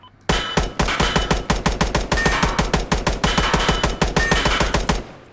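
Rapid automatic gunfire from a Colt M4 rifle in the Roblox game Deadline, a loud sustained burst of evenly spaced shots lasting about five seconds with no pauses.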